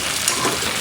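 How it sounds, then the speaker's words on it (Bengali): Potatoes frying with salt and turmeric in a pan give a steady, close sizzle with soft crackle and no voices. "ভালো করে সুন্দর করে আলুটা ভেজে নিতে হবে।"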